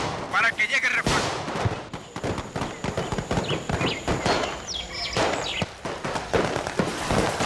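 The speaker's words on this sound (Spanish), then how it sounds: "Mantén el bombardeo sobre los firmes de los tres" Radio-drama sound effect of an artillery bombardment with gunfire: repeated loud blasts and crackling shots over a dense rumbling battle bed, with a voice speaking over parts of it.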